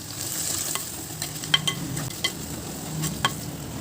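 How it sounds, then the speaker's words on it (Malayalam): Shallots sauté in a pan for biryani with a steady soft sizzle, while a spoon stirs them and clicks sharply against the pan several times, close up and with no talking. "ചെറിയ ഉള്ളി ചേർത്ത് കൊടുക്കാം. നന്നായി വഴന്നു വരുന്നതും വരെ ഇളക്കി കൊടുക്കാം"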